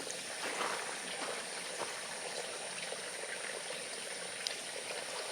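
Water of a small stream spilling over a little weir, a steady, soft broadband rush heard from a short distance, continuous and even throughout.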